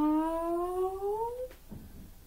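A voice imitates a cat, drawing out a long rising meow, close and clear, followed by quiet.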